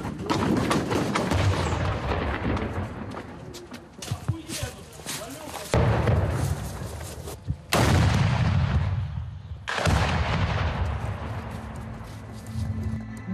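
Heavy booming blasts of artillery fire near Kherson, Ukraine, several loud reports spaced a few seconds apart, with voices talking in between.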